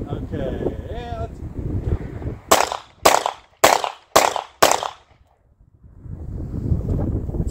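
Five sharp pistol shots from a Ruger Max 9 with a red dot sight crack out in quick succession outdoors, loud and close, with a voice talking and wind rumbling before and after.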